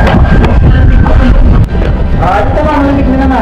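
Strong wind at the entrance of Hoyop-Hoyopan Cave in Camalig, Albay, roars and buffets the microphone loudly and steadily, while people talk.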